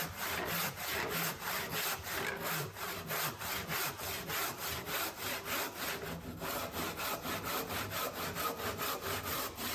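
A hand saw cuts through wood clamped to a sturdy workbench for an upholstered foot rest, producing steady, rhythmic rasping strokes, close and even, about three per second, with no talk.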